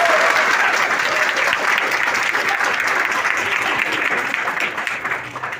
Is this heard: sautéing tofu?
no